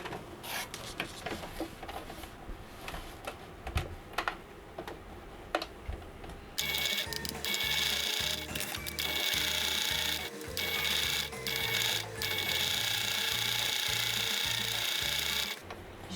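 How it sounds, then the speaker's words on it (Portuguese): A sewing machine stitches the seam of a small fabric ballet bag using a presser foot, starting with faint clicks and handling noise, then running in a steady, fast, close mechanical whir with brief pauses. "a gente passa a costura com um pezinho de máquina"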